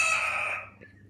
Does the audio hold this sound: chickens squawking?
yes